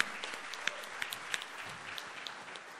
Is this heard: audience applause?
yes